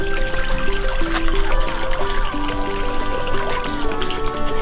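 Pond water and sludge sloshing and trickling as a net scoops through a garden pond, a steady wet gurgle close by with no voices over it.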